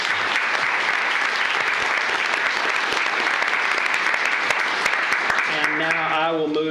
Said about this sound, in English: let's give one more big round of applause for all our employees